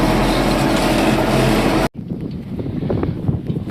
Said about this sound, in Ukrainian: вітер такий, не знаю, чути